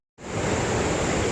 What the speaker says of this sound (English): There's a lot of rain coming down right now and mist from the waterfall itself